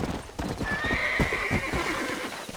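A horse in the Red Dead Redemption video game trots with clip-clop hooves and lets out a whinny, close and clear over faint background ambience.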